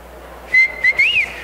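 A loud whistle from a speaker on stage at a creativity conference, two sharp bursts with a rising second note, sounding alone and close.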